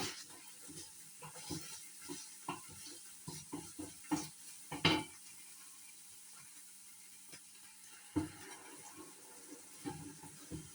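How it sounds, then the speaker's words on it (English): Onions frying and catching in a pan, a faint sizzle under repeated clinks and scrapes of a utensil stirring against the pan, with a few sharper knocks. "I'm busy burning the onions"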